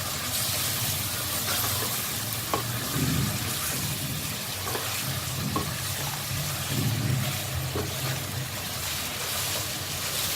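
Mutton frying in a pan with red chili powder, salt and garam masala for nihari makes a steady, close sizzle, with a few soft stirring knocks and no talking.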